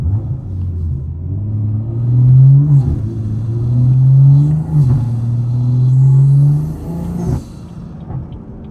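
A BMW 340i running on race gas revs repeatedly, its engine rumble swelling and falling in a few long pulls, with a sharp exhaust pop near the end before it settles to a lower idle.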